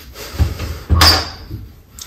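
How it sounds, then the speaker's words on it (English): On trail camera footage, a room door bursts open with a sudden loud bang, one sharp impact following a softer knock, then a brief fading rattle in a quiet room. "there's a loud bang, and the room door suddenly opens."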